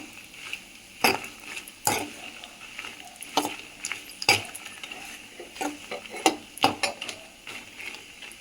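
Curry leaves and podi ingredients dry-roasting in a pan on a low flame, with a quiet background hiss and repeated sharp scraping and clinking of a spatula stirring against the pan.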